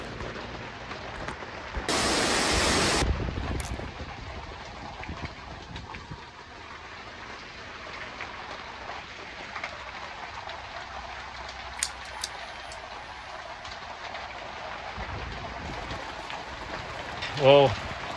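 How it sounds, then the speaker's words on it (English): Heavy rain pours down on a tent with a rip in it, a constant broadband hiss, with a loud surge of rain noise early on that settles into a steadier wash. Faint voices murmur in the background. "the rains have started finally coming in, and it's pouring down"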